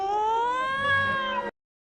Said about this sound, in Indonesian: Namun tiba-tiba seekor kucing liar menyambar dan mengambil ikan tersebut.